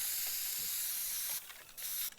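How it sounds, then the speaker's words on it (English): Spray can hissing in the video game Teardown, a steady loud spray with two brief pauses near the end, no talk. "Spray can, I'm going to try and just highlight this as much as possible so it's very obvious where this is."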